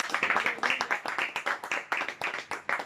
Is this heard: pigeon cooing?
no